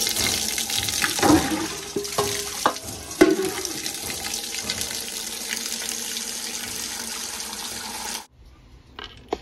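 Potatoes being washed in a sink as tap water runs and splashes steadily for about eight seconds, with occasional knocks of tubers against each other and the basin, before the water suddenly cuts off into near silence.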